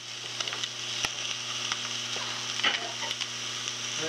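Rainbow trout frying in a pan, a steady close sizzle with scattered pops and crackles over a low background hum, no talking.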